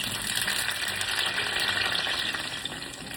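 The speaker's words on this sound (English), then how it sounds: "so nice little sizzle there" Loud, continuous sizzling of tomatoes frying in a hot pan, crackling steadily with no talking.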